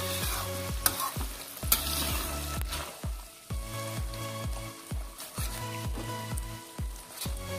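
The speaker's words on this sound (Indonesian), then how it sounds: "Kita aduk terus sampai matang, berwarna coklat kekuningan nanti" Shredded chicken abon frying in a pan over medium heat is stirred constantly, a rhythmic scrape-and-sizzle repeating about every half second over a continuous close crackle of oil.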